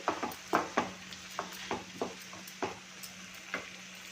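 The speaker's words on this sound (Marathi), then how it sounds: "कांदा टोमॅटो आपला छान असा शिजू द्यायचं आहे" Chopped onion and tomato cook in a pan for mushroom masala, with a spatula tapping and scraping in a loose rhythm over a faint low sizzle, quiet and without talk.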